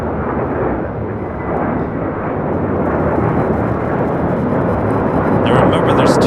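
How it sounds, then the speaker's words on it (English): JetBlue Airways A321 jet roaring loud and steady during takeoff at LAX, a continuous broadband engine rumble that swells slightly toward the end, with people talking underneath. "This is JetBlue Airways 2824 taking off to JFK on an A321."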